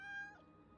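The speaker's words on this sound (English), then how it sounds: "Is that Luke's cat?" A cat gives a single short, faint meow that trails off quickly, with no other sound around it.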